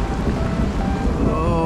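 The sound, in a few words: storm with rain and thunder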